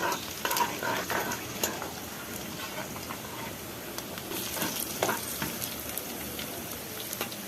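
Onion, mustard seeds and cumin crackle and sizzle in hot oil for Andhra sambar, a steady busy frying hiss with scattered pops and stirring noises throughout, close and moderately loud.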